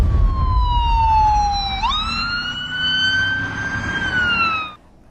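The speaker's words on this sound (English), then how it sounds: "how did you get an ambulance?" An ambulance siren wails close and loud, one long falling tone that jumps up and then holds steady for several seconds before cutting off, over a low rumble of traffic.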